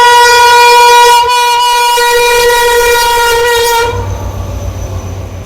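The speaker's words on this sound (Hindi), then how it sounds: "तो ये हमारी ट्रेन भी पहुंच चुकी है इस वक्त हमारे सामने HGM 30 के साथ" Pakistani passenger train, the Rehman Baba Express, arriving behind an HGM 30 locomotive: a loud, sustained multi-tone horn blares for about four seconds, then cuts to the low rumble and rolling clatter of the approaching train.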